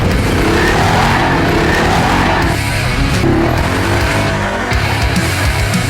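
A four-wheeler's engine drives up a steep switchback trail near old gold rush country, a loud, close, continuous roar with grinding, rough motor noise and shifting intensity.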